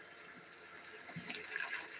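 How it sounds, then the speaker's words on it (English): Rain begins in a video game set in the Pacific Northwest, a soft steady hiss with faint splashy patter, quiet and continuous over two seconds with no voices. "The rain begins."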